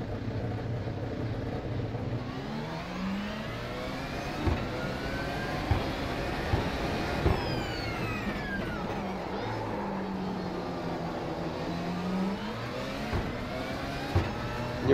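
A Porsche 919 Hybrid LMP1 prototype race car in the iRacing video game drones steadily, its pitch sweeping up and down as it runs through gears 2, 3 and 4, with brief breaks at each shift.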